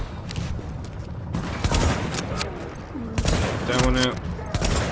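Gunfire crackles in The Division, including a shotgun, with repeated sharp blasts in irregular bursts and clusters over a busy combat background, loud and close, with some voices in the mix.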